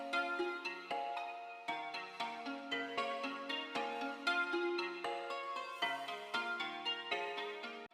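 Hip-hop type beat with a guitar accent and kalimba playing together, a bright plucked melodic loop with rhythmic pulses running steadily throughout, no voices.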